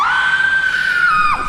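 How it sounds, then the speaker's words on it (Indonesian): A woman screams loudly in one long sustained shriek that holds a steady high pitch before breaking and dropping off at the end, close and alone. "Teriaknya kenceng banget ya?"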